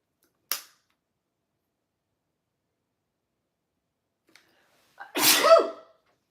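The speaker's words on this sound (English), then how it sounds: "I have to sneeze." A single loud, close sneeze bursts out after a short sharp click and a few seconds of near silence, alone with no talk around it.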